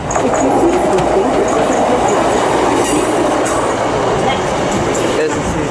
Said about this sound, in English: there's a 220 Voyager.